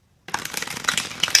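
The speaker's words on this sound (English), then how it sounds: "One last shuffle for Scorpios." A deck of tarot cards is shuffled close up after a moment of silence, giving a quick, crisp run of riffling and flicking paper noise.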